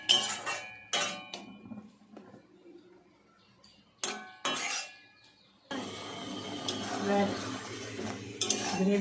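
A utensil stirs thick poppy-seed gravy for potol posto in a pot, with metallic clinks and scrapes at first, then steady close scraping and stirring.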